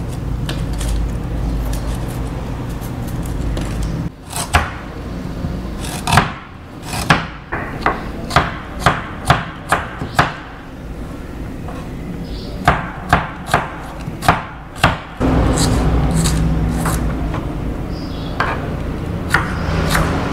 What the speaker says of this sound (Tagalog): Maghiwa na po tayo.